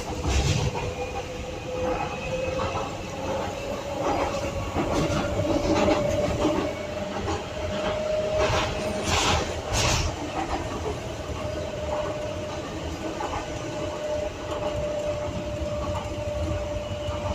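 A driverless Docklands Light Railway train runs steadily between Canary Wharf and London City Airport, its continuous rumble and wheel noise close and loud throughout, with a squealing tone and a few brief clatters along the track.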